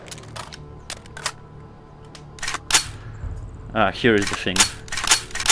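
Gunfire in the VR shooter game Onward: a quick series of sharp, close shots and clicks, followed by a voice speaking over more shots near the end.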